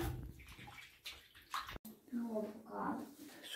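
Water sloshes and splashes while a child's dirty sock is washed by hand, in short uneven bursts with a brief gap midway, under someone talking nearby.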